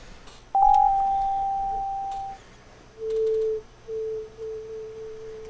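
Pure sine wave synth tones from Reason software: a long steady high beep, then a lower tone pulsing in three short bursts, clean and alone.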